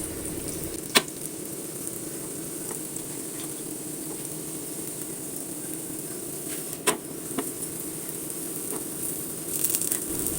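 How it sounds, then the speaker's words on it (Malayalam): Spinach paratha cooks on a pan with ghee or oil, giving a quiet, continuous low sizzle with a couple of sharp clicks from utensils touching the pan and no talking. "കുറച്ച് നമുക്ക് നെയ്യോ ഓയിലോ എന്തെങ്കിലും ഇങ്ങനെ ഒഴിച്ചു കൊടുക്കാം"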